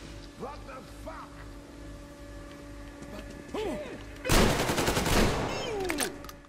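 Gunfire from the video game Metro Exodus: a few scattered shots early, then a loud, dense burst of rapid automatic fire near the end, with a voice talking over parts of it.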